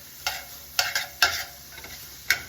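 Softening vegetables hiss gently in a pan as a spoon stirs them, giving a handful of distinct scraping strokes over a low, steady sizzle.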